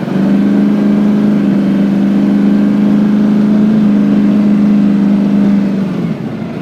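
A 1972 Dodge Challenger with a 426 HEMI engine drones steadily while driving, a loud, low, even engine hum from inside the car that holds for several seconds before easing off at the end.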